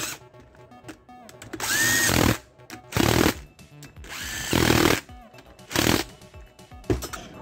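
A power drill drives screws into the crankcase of a 200cc four-stroke engine being assembled, sounding in five loud bursts of one to two seconds each with quiet pauses between, one run rising in pitch as the motor speeds up.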